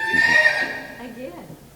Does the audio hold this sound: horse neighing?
yes